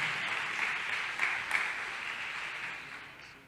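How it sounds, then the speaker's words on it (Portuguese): Church congregation at a Methodist conference applauding, a dense wash of many hands clapping together, steady and fairly loud before slowly fading, with no clear voices. "Aplauda ao Senhor pela vida do pastor Marcelo"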